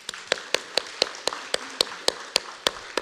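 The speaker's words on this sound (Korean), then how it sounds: "우리 박수 쳐야 돼, 박수." During a Sunday church service, a congregation claps in unison with sharp, evenly spaced beats, about thirteen claps in quick steady rhythm, clear and close with no talking.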